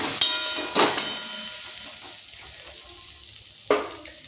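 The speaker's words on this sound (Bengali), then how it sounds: "আলু ভাজাটা ভাজতে বসিয়ে দিলাম।" Finely cut potato slivers fry in a pan with a steady hiss, broken by a few sharp sizzling bursts and stirring clatters near the start and again toward the end.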